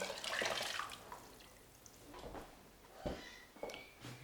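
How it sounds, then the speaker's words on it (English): Water poured from a container into a soup pot of lentils in a home kitchen, a faint, close splashing and trickling that swells and fades, with a few light knocks. "I'm going to fill this up with water and pour them in."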